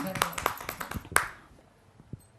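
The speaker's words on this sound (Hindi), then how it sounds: "एक बार मैम के लिए जोरदार तालियां" Scattered hand claps from an audience at a Hindi kavi sammelan poetry gathering, a quick burst of a few sharp claps that thins out and fades to near silence within about two seconds.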